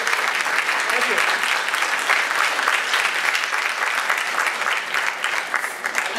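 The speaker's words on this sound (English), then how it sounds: "So I would just like to give him a round of applause" Audience applause at a community forum in a high school, with a continuous dense clatter of many hands clapping at even volume for several seconds. Some murmured voices sit beneath it.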